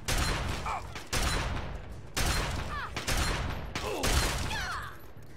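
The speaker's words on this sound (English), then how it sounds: "Who's shooting at me?" Gunfire in the video game Fallout 3 comes as a series of loud, sharp broadband blasts about once a second, each trailing off into a ringing decay, with no talk.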